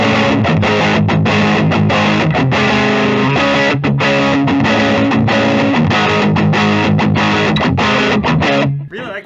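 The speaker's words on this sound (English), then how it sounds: "Let's try it with some distortion." Heavily distorted electric guitar from a teal 2021 Gibson Les Paul Custom, loud and continuous with strummed chords and riffs for about nine seconds, ringing out and fading at the very end, with no talking.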